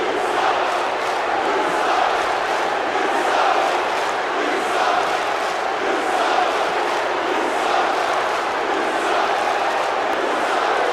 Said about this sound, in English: This crowd telling Daniel Bryan how they really feel.